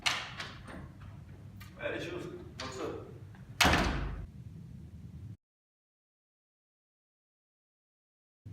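A room door opens as someone enters, producing a few close thumps and rattling knocks with a louder clunk near the end, followed by abrupt silence.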